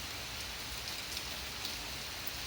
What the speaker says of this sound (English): Rain's picking up, though.